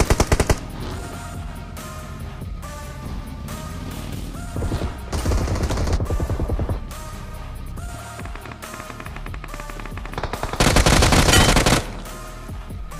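Continuous automatic gunfire in a BGMI battle, with rapid bursts from several weapons overlapping, loud and dense, with heavier volleys toward the end.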